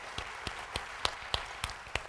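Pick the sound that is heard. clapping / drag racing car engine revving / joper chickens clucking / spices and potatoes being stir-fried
clapping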